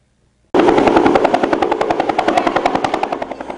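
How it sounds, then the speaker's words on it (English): A rescue helicopter over the flooding Susquehanna River in Conklin, loud and close overhead, its rotor beating in a fast steady chop that begins abruptly and holds for several seconds with no voices. "The sounds of a helicopter rescuing neighbors"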